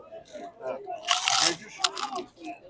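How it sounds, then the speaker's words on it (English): Someone bites into a Red Bridges pork rind, giving loud, close, brittle crunches in two main bursts, with chewing sounds and murmured voice noises between them. "What you're hearing is the crunch of a delicious Red Bridges pork rind."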